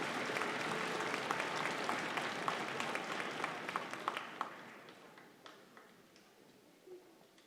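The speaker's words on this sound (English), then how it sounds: "please give Mr. Haspatcher a hand for his help today" A school audience applauds a guest bass teacher at a strings celebration, a dense round of clapping that starts full and gradually thins and fades over several seconds, with scattered individual claps near the end.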